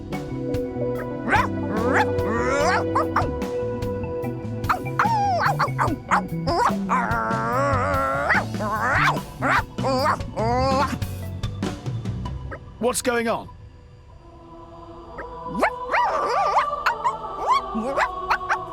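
In Xenoblade Chronicles 2, a robot character switched to dog mode lets out a run of yipping, quacky barks, a voice imitating a dog, while other game characters talk between the barks.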